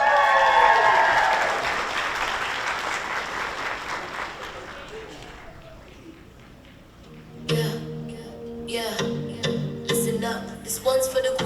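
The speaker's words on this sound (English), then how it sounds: "why don't you give a round of applause for Layla Coley." A crowd claps and cheers loudly, the applause slowly dying down, followed by talk with scattered sharp sounds.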